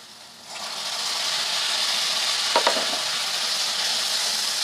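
Chopped tomatoes hit browned onions in a pan, bursting into a loud, even sizzle that holds steady, broken briefly by a spoon scraping and stirring, while a chicken gravy base cooks.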